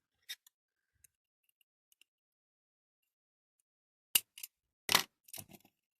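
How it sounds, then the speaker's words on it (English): Cutters snip through a small spring on a 1964 Dinky Toys Coventry Climax fork lift under restoration: a few sharp, close clicks and snaps come after a long near-silent stretch. "Let me just cut this spring."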